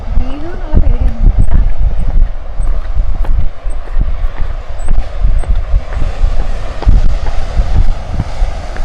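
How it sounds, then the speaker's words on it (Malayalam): Cold wind gusts roar over the microphone on a seaside clifftop path at Cape Solander, a loud, steady low rumble with intermittent buffeting throughout. "ഇങ്ങോട്ട് ഇറങ്ങി വരുന്നതോറും നല്ല തണുത്ത കാറ്റുണ്ട് കേട്ടോ"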